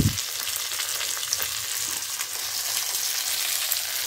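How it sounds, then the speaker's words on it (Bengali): Ghee sizzles steadily in a pan with rice and vegetables, a dense, continuous frying hiss close up, with a soft stirring knock at the start and no talking. "আর এখন দেখো আমি আমার পরিমাণ মতন একটু বেশি করে ঘি দিয়ে দেবো, যাতে ঘিয়ের গন্ধটা বের হয়।"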